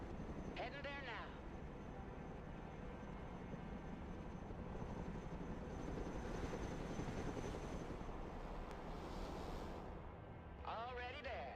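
Chinook helicopter in the game Broken Arrow, a steady dense rotor and engine drone holding loud throughout, with brief radio-style voices breaking in near the start and end.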